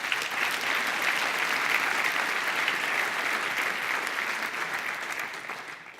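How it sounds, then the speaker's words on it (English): Conference audience applauding sponsors at an enterprise architecture event, a broad, steady round of clapping from a large crowd, moderately distant, fading a little toward the end. "I would like you to join me in giving a round of applause for such great partners supporting"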